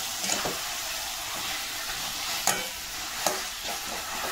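Mutton mince coated with salt, turmeric and oil fries in a pan with a close, steady sizzling hiss, broken by a few sharp scraping strokes as it is stirred. No one speaks.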